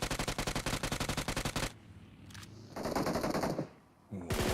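Rapid automatic gunfire in the mobile battle royale game PUBG Mobile during a global championship match, a fast burst of evenly spaced shots, then a quieter gap and another spray of fire, loud and near.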